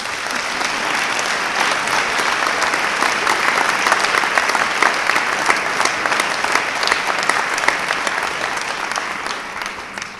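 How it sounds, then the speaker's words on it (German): A concert crowd claps enthusiastically and steadily throughout, a dense wash of applause that holds strong before easing slightly at the end. "Applaus."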